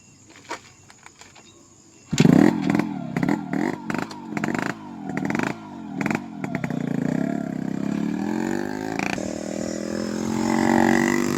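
A Yamaha RX100 motorcycle starts with a loud burst, then revs in a series of repeated throttle blips before settling into a continuous running drone as it rides off, close and prominent.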